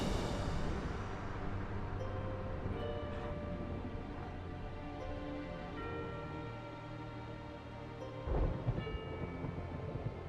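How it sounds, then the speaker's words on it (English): Rolling thunder rumbles on and on inside a house during a thunderstorm, with rain falling steadily against the surface outside; one louder crack comes near the end, and nobody speaks. "I think I actually heard thunder and lightning in my house too."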